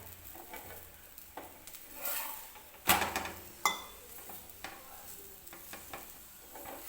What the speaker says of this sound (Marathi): तर व्यवस्थित हा पराठा भाजून घ्यायचा आहे